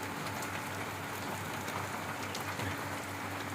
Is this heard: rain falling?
yes